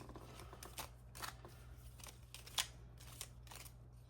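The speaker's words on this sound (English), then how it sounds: "let's give these a quick shuffle." Close, crisp papery riffling of scratch-off lottery cards being shuffled comes in short bursts, about eight quick flicks spread over a few seconds, over a low steady hum.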